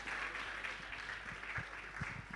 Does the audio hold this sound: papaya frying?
no